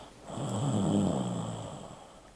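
A single deep, rumbling snore swells and fades over about two seconds, heard close and alone, with a rough, throaty rattle to its breath.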